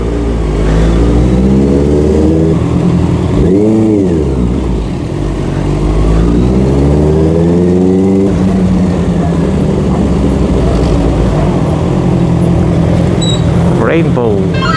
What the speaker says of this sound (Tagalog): kaya ganito na lamang kaingay ang ating CBR 650R. Kasi medyo open na talaga din siya.